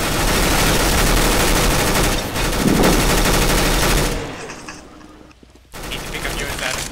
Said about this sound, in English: He's wall banging.